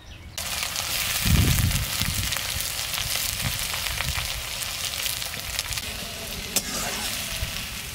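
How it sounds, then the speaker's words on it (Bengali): Finely chopped onions frying in oil for duck curry, a steady loud sizzle with a brief burst of stirring near the start, continuous and close with no talking. "পেঁয়াজ ভাজা হয়ে গেছে"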